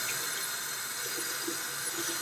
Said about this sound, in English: to rinse it, I just run it on the water